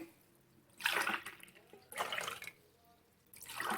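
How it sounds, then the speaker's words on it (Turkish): Water poured from a drinking glass into a pot while making syrup for shredded kadayif pastry, in three separate splashing pours with short pauses between them, close and fairly loud, with no talking. "Şimdi aynı bardakla su ilave ediyorum."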